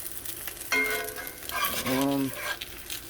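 Fish cakes made from alligator garfish frying in oil in a pan, a soft sizzle under brief bursts of clattering and a tonal squeak as the cakes are handled and flipped.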